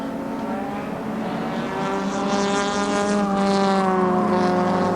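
Production race cars at Amaroo Park in 1988 roar past in a steady, loud blend of engine notes, their revs rising in layered harmonic whines that swell slightly over the stretch with no voices.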